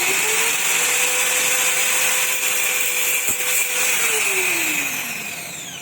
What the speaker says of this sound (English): Take 2 compressors at a time and cut it like this from the welding.